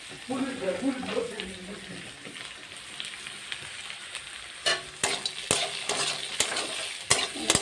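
Pigeon meat frying with ginger and black pepper added, a steady close sizzle with stirring scrapes and sharp spoon knocks against the pan toward the end.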